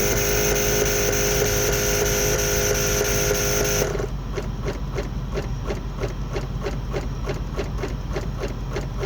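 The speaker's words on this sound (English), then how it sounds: "the compressor continues to try to pump" Air suspension compressor on a BMW E53 pumping: a steady, close mechanical drone that turns into a fast, regular pulsing chug partway through, with no talk.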